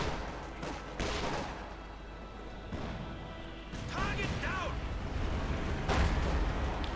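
Artillery fire in the real-time strategy game Company of Heroes 2, heavy booms and crashing impacts over constant battle noise, with someone commentating over it throughout.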